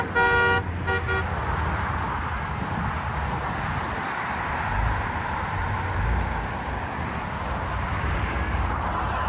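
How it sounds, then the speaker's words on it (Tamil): A short vehicle horn toot sounds near the start in Salalah, Oman, followed by steady road and engine noise rumbling in the background. "ஹார்ன் அடிக்காம அதனால அந்த மாதிரி ஹார்ன் அடிச்சுட்டே போறாரு."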